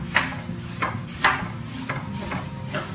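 Sesame seeds dry-roast in a pan, giving a dense crackle with bright scraping sweeps that come in a regular rhythm about twice a second, as though the seeds are being stirred, close and fairly loud with no talk.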